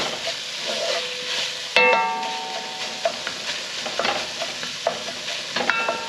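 Tomato paste cooks in a hot pan, a steady sizzle broken by a sharp metallic clink and repeated scraping strokes of a utensil stirring it, close and without talk.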